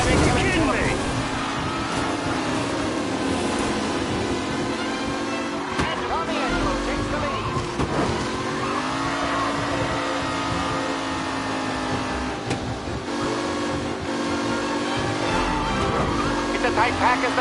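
Race cars in a Mafia video game race roar continuously, engines revving and shifting pitch as they accelerate, loud and close, with a voice talking over them at times.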